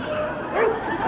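A small dog at a Calgary Stampede dog show giving a quick yip or bark in a single brief burst, close and clear against crowd and event background.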